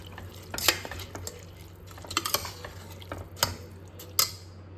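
A spoon scrapes and clinks around a pot of beetroot rice in irregular strokes, close and fairly quiet, over a low steady hum.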